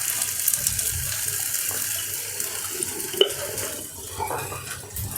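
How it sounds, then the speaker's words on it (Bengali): Salt mixed into chicken momo filling in a bowl: soft, continuous scraping and swishing close by, with one sharp clink partway through and no talking. "ভালো করে লবণটাকে আমরা মিশিয়ে নিলাম।"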